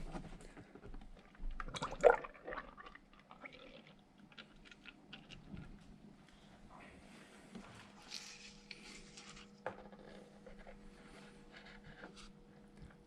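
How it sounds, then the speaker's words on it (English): Motor oil glugs and trickles as it is poured into the engine of a Honda Odyssey minivan, faint liquid pouring and dripping with occasional soft knocks, nearby and quiet, no talking. "now we're gonna put the rest of the oil into the car"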